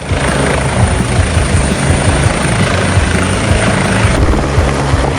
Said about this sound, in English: A helicopter pulled off a daring landing beside a steep hill and a side railing